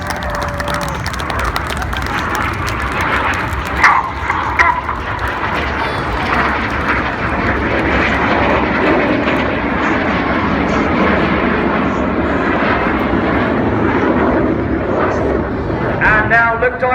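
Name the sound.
RAF Red Arrows Synchro pair jets performing double rolls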